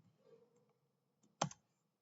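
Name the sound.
typing on a computer keyboard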